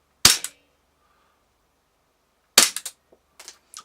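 Two sharp cracks from a WE Glock 17 airsoft pistol, one alone and one about two seconds later, each followed by short clattering rattles, loud and close with no talk.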